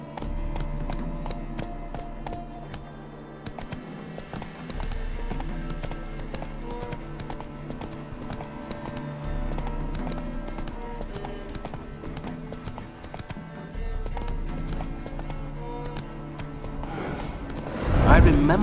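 The horse Roach's hooves clip-clop in a steady rhythmic trot in The Witcher 3, continuous and fairly close under game music and ambience, with a louder burst at the end.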